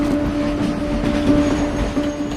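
A loud train rumbles past on a railway track right beside slum houses, with a steady heavy roar, wheel clatter and a sustained metallic squeal, close and unbroken.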